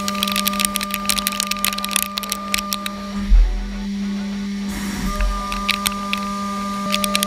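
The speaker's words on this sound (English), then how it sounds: "the base is manufactured on the Hass VF2 SS. It's made from rectangular aluminium billet" A Haas VF2 SS CNC mill high-speed machining a rectangular aluminium billet gives a steady spindle whine under a continuous, sharp crackle of chips flying off, with brief heavier cutting surges partway through and no talk.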